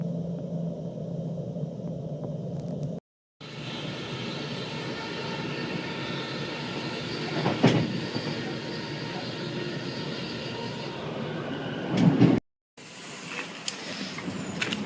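Passenger train travelling on rails in the Netherlands, a steady broadband rumble and rolling noise heard from inside the carriage, with brief clanks and louder swells, interrupted by two short cuts.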